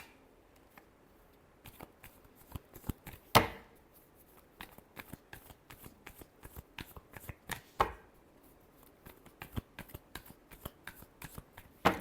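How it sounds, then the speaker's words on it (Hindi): Tarot cards being shuffled by hand in a love reading, giving quick rhythmic riffles and soft flicking taps that come in bursts with two louder riffles, close and fairly quiet, with no talk. "Last shuffle."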